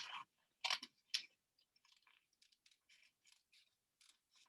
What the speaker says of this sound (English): I'm going to cut out my petal.